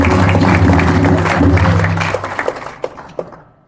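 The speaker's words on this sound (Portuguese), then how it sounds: "Todos batam palmas para esse local e para o dono desse local." Close, dense applause from a gathered audience at a devotional talk in Alto Paraíso de Goiás, clapping steadily and then thinning into a few scattered claps before fading out.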